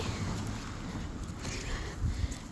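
Strong wind buffets the microphone outdoors on a hilly road, a steady low rumble with gusts that hold loud throughout and swell near the end, no voices.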